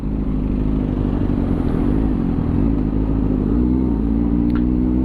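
A Kawasaki motorcycle fitted with an SC-Project exhaust, its engine running loud and close with a deep, throbbing rumble that shifts pitch slightly as the revs change, steady throughout with no talk.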